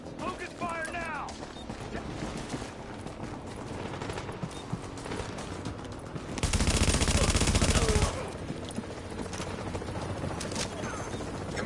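Sustained gunfire in the video game The Division rattles on in a dense, mechanical stream of shots, swelling into a loud, continuous burst midway before settling back to a busy firefight texture.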